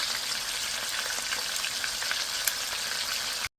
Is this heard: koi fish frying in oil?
yes